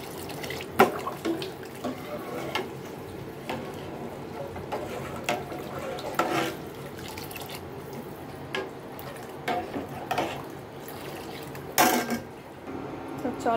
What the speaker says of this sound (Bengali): এই যে দুধ জাল করতেছি